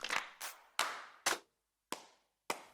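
Stacked kick, clap and stomp samples in Superior Drummer hit as six sharp, punchy, roomy strikes with short decaying tails, spaced irregularly with brief silences between.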